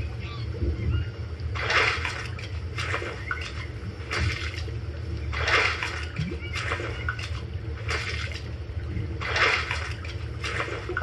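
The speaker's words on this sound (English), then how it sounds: "Let me go ahead and get washed up." Water splashes and sloshes in repeated bursts as a character washes up in the Green Hell video game, with steady low rumbling underneath.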